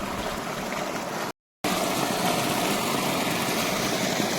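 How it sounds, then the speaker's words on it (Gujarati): Water flowing into an irrigation channel on a farm, a steady broadband rush mixed with a low engine-like hum, continuous and fairly loud apart from one brief dropout. "આપણા ધોરિયાની અંદર પાણી જાય છે"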